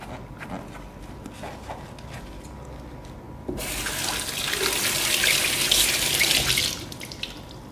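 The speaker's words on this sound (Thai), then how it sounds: "แล้วก็ ล้างความทำความสะอาดนะครับ เราก็ใช้ฟองน้ำนี่ครับ" Water runs from a tap as a sponge scrubs removable Hurom H100 juicer parts in a sink, a steady broad wash of flowing water that swells louder midway, with no talking.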